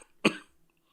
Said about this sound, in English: It had you coughing like this.